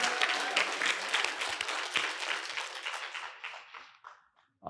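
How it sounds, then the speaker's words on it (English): A summit audience breaks into loud, dense applause that rolls on for several seconds before tapering off into scattered claps and fading away. "Let's give Kim Rodriguez a round of applause."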